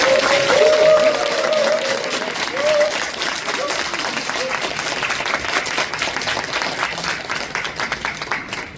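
Audience applause after a stage actress's talk at an arts and humanities concert in a Seoul museum hall, loud sustained clapping from a full room that continues steadily throughout with a few faint voices mixed in.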